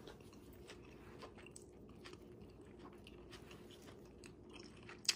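Faint, close chewing and crunching while eating larb with sticky rice, soft irregular bites and mouth sounds over a quiet background, ending in a brief sharp click.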